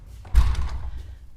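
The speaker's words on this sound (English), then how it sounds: "Let's close this door." An interior door in a home with a small terrace is pushed shut, giving a single close thump followed by a brief rumbling decay in a quiet room.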